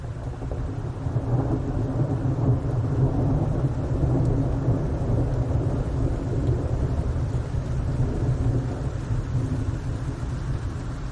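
A thunderstorm during a caravan trip: steady heavy rain and low rumbling thunder, loud and continuous without a break, with no voices.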